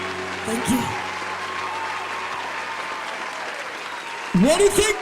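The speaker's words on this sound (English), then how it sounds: "Round of applause for Kathleen." A talent show crowd applauds steadily for a finalist at a grand finale, the clapping continuous under brief bursts of a host's voice at the start and end.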